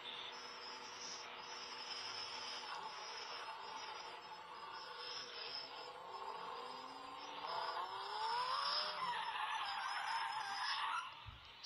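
A Lamborghini revs and accelerates hard, its engine note climbing steadily and getting louder toward the end, with a steady broadband roar and whir throughout and no voices.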